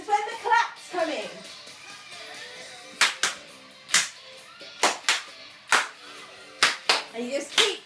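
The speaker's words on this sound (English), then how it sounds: "This is when the claps come in." Sharp hand claps land in a regular rhythm over dance music for a routine, close and distinct, with a voice talking between them.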